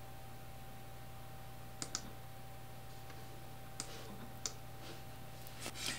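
Computer mouse clicks while working in the Arduino IDE: a handful of sharp, quiet clicks, a couple in quick pairs, spaced over a steady low hum with no talking.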